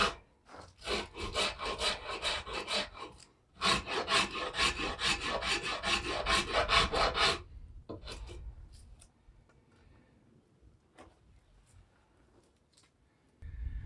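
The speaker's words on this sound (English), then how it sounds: "the farrier's rasp just eats this stuff alive" A farrier's rasp is worked across natural fork slingshot wood in quick back-and-forth strokes, loud and close, in a long burst, then a pause and sparser, lighter scrapes and taps.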